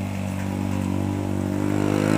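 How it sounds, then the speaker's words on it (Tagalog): A motorcycle goes by on a road in Tanay, its engine a steady droning hum that grows gradually louder, with no speech. "Manonood muna tayo ng mga dumadaan na mga motor"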